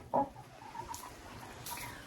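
Laying hens in a henhouse give one short, clear cluck near the start, followed by fainter, softer murmurs against a quiet background.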